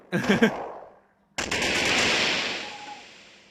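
Fireworks effect in a Nintendo 3DS prototype system app: a short burst of crackling pops, a near-silent gap, then a loud sustained hissing, crackling blast that slowly fades, with a faint tone near the end.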